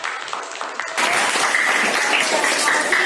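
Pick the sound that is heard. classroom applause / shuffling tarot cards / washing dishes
classroom applause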